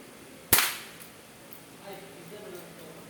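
A single sharp shot from a K35 1911 spring-powered airsoft pistol, near and loud, cracks once with a quick decay, followed by quiet room tone and faint low rustling.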